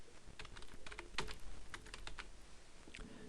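Typing on a computer keyboard, close and fairly quiet, with irregular clusters of light key clicks over a faint steady background hum.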